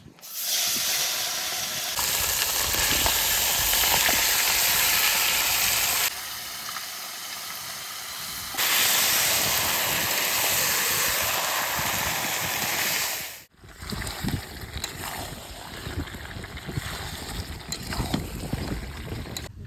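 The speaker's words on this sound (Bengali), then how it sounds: "জিরে দিয়ে দেবো এবার মাংসটা দিয়ে দেবো তেলের মধ্যে" Meat with cumin seeds dropped into hot oil for Bengali khichuri, giving a loud, steady sizzle and hiss that surges in bursts, drops briefly, then settles into a lower crackling fry, with no talking.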